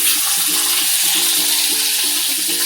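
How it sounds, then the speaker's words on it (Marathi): Ginger frying in hot oil in a pan for egg curry makes a loud, constant close sizzle, with a repeating low tonal hum running underneath, and nobody speaks. "त्याला आलं टाकू, करपू दे जरा"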